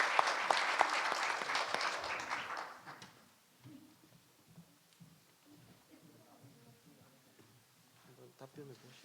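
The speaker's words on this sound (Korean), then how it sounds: "박수로 한번 모시겠습니다." An audience at an Ulsan teachers' federation forum claps to welcome the association president onstage. The applause is lively for about three seconds, then fades into a quiet room with faint murmurs and shuffling.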